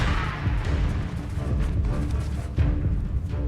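Confringo blasting spells cast in Hogwarts Legacy, heard as a steady roar of rumbling, crashing blasts with a sharper impact near the end, with no one talking.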